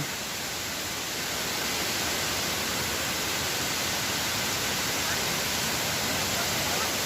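Sarika waterfall roars as a dense, even wash of rushing water, loud and constant throughout, heard up close with no clear talk.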